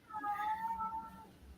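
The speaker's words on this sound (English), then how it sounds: "He just meows, whines all night." A cat gives a single drawn-out meow, faint and a little whiny, rising then trailing off over about a second.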